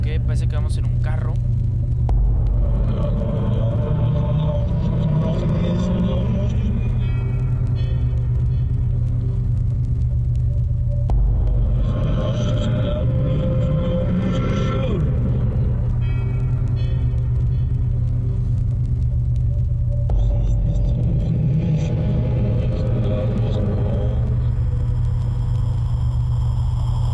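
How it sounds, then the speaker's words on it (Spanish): A car drives in the video game Slender: The Arrival, with a steady, heavy low engine rumble lasting the whole stretch, swelling in periodic waves while a voice talks over it. "Ok, parece que vamos en un carro."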